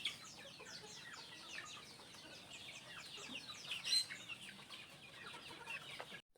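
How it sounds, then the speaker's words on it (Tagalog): Backyard chickens cluck and chirp continuously while being fed, a busy, fairly faint flock chatter that stays steady for several seconds before cutting off. "dahil wala si Jayfern, ako na rin ang nagpatuka ng mga manok dito sa backyard"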